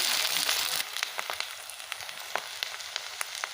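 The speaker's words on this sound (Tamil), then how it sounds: "நல்லெண்ணெய் வெங்காயம் நல்லா வதங்கி வரட்டும்" Onions sautéing in homemade sesame oil give a steady, close sizzle, with bright crackles and small pops scattered throughout; the sizzle is loudest at first and then settles a little lower.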